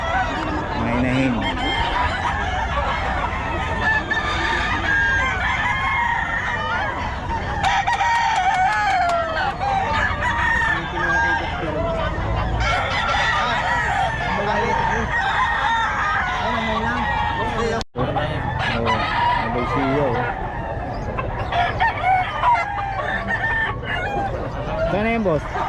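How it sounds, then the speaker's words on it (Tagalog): Hens cluck and roosters crow throughout at a busy fowl sale, several birds calling close by over steady crowd chatter, with people talking in the background. "Mga inahin."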